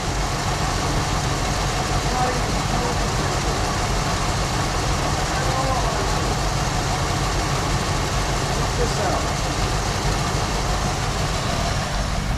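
A 1974 Ford Bronco engine, first started in more than 16 years, idles with a steady, rough rumble, close and loud throughout, while someone speaks briefly over it.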